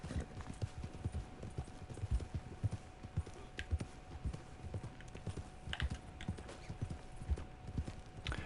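Rapid, steady hoofbeats of a video-game horse clip-clop across the whole stretch, fairly close and busy, with a few sharp clicks scattered over them and no voices.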